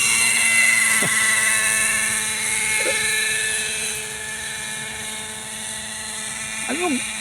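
A Kyosho Nexus 32 RC model helicopter flies at an open field, its steady, high-pitched engine and rotor whine running continuously at close range, with faint voices briefly audible.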